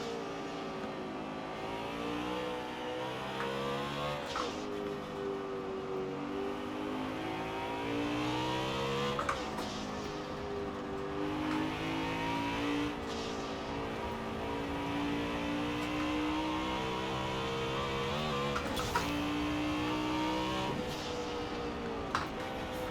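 A BMW M3 GTS engine in Forza Horizon 4 racing on a circuit, revving up through the gears repeatedly with rising whines and sharp shift breaks, loud and continuous throughout.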